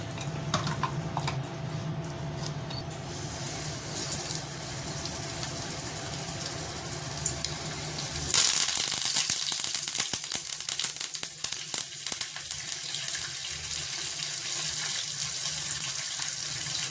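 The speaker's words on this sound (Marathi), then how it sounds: "आता आपण बांगडे फ्राय करून घेऊया" Marinated bangda mackerel fish frying in a pan: a steady hiss and sizzle that grows sharply louder and crackles once the fish goes into the hot oil, with no talking.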